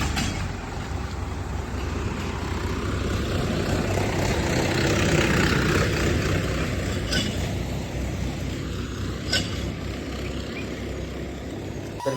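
A tractor engine rumbles steadily at close range, low and continuous, with faint clicks and rattles over the drone.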